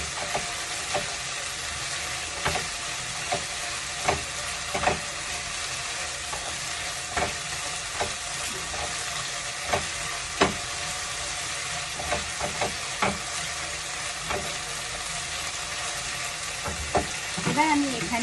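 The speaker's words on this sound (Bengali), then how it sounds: "পেঁয়াজটাকে বেশি কড়া করে ভাজবো না" Onions frying in a pan, a steady low sizzle running throughout with scattered scraping and stirring clicks of a utensil against the pan, close and moderate in level.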